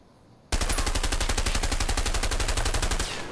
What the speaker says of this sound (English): M16, first fire assault rifle.